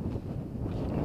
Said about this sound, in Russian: ну ветер вообще